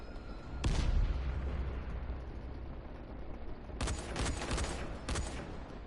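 Gunfire in the video game Dying Light: a sharp, loud burst of shots near the start, then a pause, then a cluster of rapid close blasts, all over a steady low background rumble.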